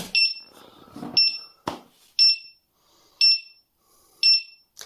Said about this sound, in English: It beeps 5 times.